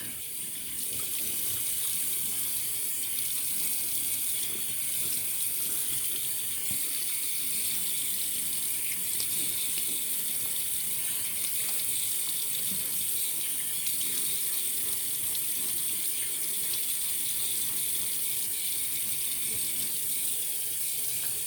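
Water runs steadily from a tap into a sink while the face is wetted for shaving, an unbroken close splashing hiss of even loudness throughout, with no talking.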